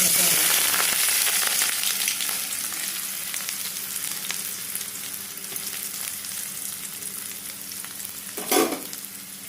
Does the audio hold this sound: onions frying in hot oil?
yes